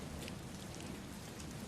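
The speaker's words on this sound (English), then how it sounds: "An Englishman, and he can't stand the rain." Steady outdoor rainfall patters on surfaces near a French chateau, a faint, even hiss with soft drops and no voices.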